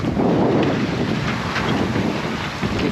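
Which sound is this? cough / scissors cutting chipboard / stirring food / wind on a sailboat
wind on a sailboat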